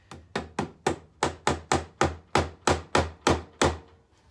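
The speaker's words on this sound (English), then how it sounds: "Using the ball peen hammer" A ball peen hammer taps nails into a wooden crate shelf, about fourteen sharp, evenly spaced strikes in a quick steady rhythm, close and clear with no talk.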